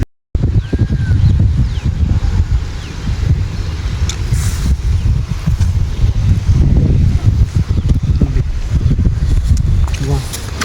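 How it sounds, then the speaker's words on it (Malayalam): Strong wind buffets the microphone on a rocky hilltop by a temple in the rain, a loud continuous roar with gusty surges, while a person talks over it. "നല്ല കാറ്റുണ്ട്, നല്ല മഴയുണ്ട്."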